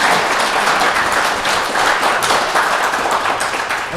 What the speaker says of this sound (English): If you can give our candidates a warm round of applause.